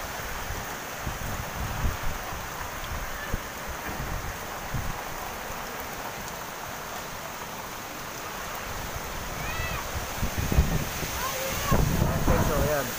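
Strong wind from Typhoon Rolly in Laguna roars and buffets the microphone steadily, with gusts growing louder toward the end and a faint splash of rain beneath.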